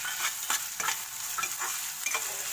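Capsicum pieces fry in a pan with a soft, steady sizzle, broken by light scraping strokes of a spatula about twice a second, fairly quiet and close, with no voice.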